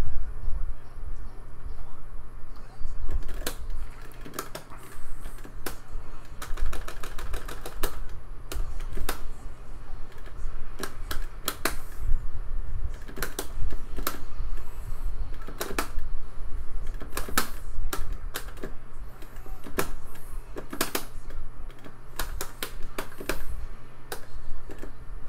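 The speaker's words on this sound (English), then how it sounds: "my keyboard on this computer doesn't have a backspace key, and it's really hard for me to type on it" Keys clatter on a computer keyboard that lacks a backspace key, a steady stream of uneven clicks and taps running throughout beneath a low background hum.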